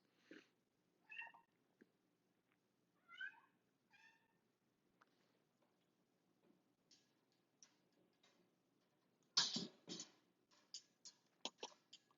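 A house cat gives a few soft, faint meows early on, then quiet light ticking and tapping sounds follow in a calm indoor room, with a louder cluster of clicks near the end.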